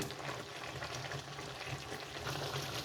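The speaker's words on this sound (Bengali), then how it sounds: "আদা রসুন বাটা দিয়ে আমি 3-4 মিনিট কষিয়ে নেব" Ginger garlic paste frying in a pan for beef masala gives a soft, steady sizzle and bubbling, fairly faint and unbroken throughout.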